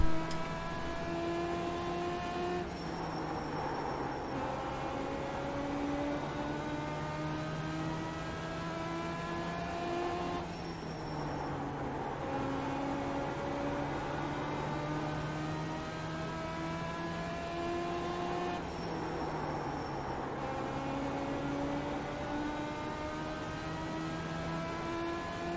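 Race car engine on a qualifying lap in the iRacing video game at Southern National, a steady simulated engine drone whose pitch climbs through each gear, with three brief dips at the shifts, alone and even throughout.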